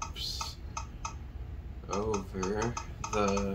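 Quick clicking keystrokes on a pi-top Bluetooth keyboard come in short bursts, close and fairly faint, with someone talking over the later part.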